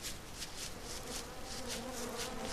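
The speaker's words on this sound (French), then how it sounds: "Et le bon vieux bruit des abeilles." Steady, close buzzing of bees in the video game Don't Starve, with a soft pulsing drone, continuous throughout and without any voices.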